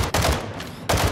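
An RPK light machine gun fires in Call of Duty Warzone DMZ, loud close bursts of rapid shots separated by a short pause.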